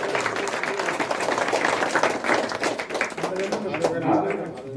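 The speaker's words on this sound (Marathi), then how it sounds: "सगळ्या टाळ्या वाजवल्या." A crowd applauding in a temple assembly hall at a Datta Jayanti festival in a Konkan village, a dense round of clapping that thins toward the end while people talk over it.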